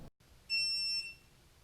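A Bird Air electric scooter gives a single short, high electronic beep, close and clear, against a quiet background.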